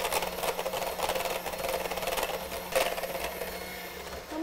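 Electric mixer on medium-high creaming butter and sugar for black and white cookies: a steady, close motor whir with a fine rattling beater texture, continuous for several seconds and without speech.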